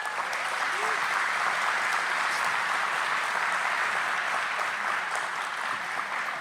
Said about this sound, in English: let's give them a round of applause for their presence and for their contributions